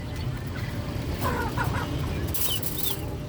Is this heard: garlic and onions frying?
no